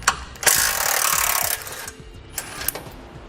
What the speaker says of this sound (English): We'll use that 16mm socket again to do this.